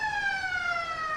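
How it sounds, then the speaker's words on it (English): A loud, sustained sports ground siren signalling quarter time at a football match sounds alone, holding a steady pitch that drifts slightly downward. "And that is the siren for quarter time."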